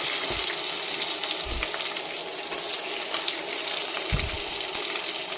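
Chopped onion, green chili and curry leaves dropped into hot oil for an okra and potato stew: a loud, steady, close sizzle fills the whole stretch, with a few soft low thumps from the pan.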